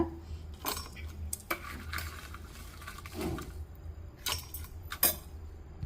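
Cooled gooseberries for a gooseberry pickle are dropped into a mixer jar, making scattered light clinks and knocks with a few louder clatters and no talking.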